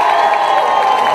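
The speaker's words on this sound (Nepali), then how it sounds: "उहाँको सम्मानमा सबैले एकचोटि गडगडाट ताली बजाइदिनुहोस्" A large crowd at a political rally applauding and cheering in honour of Prithvi Narayan, a loud dense wash of clapping and voices that stays steady and continuous throughout.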